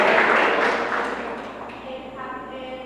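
Church congregation applauding in a hall, a dense patter of clapping that is loudest at the start and then fades away, with some sustained background tones underneath.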